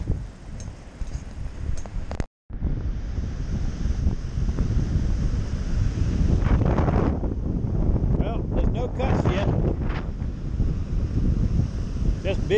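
Rough, angry ocean surf rolls in under strong wind ahead of Hurricane Florence. Heavy wind buffets the microphone, and the roar of waves swells and fades in a continuous loud wash, with a brief dropout early on.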